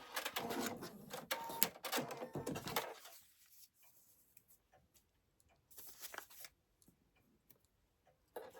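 A sewing machine stitches fabric for foundation piecing in a burst of fast mechanical whirring and clatter, then stops, with a couple of brief quieter runs following.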